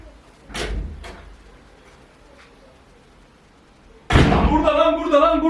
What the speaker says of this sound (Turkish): Kapat kapıyı kapat Muhammed.